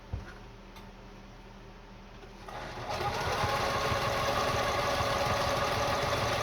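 A Kenmore 158.10500 sewing machine stitches a buttonhole, starting as a quiet mechanical whir and then speeding into a louder, steady humming drone with rapid ticking.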